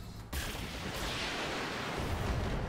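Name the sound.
mech weapons firing in a video game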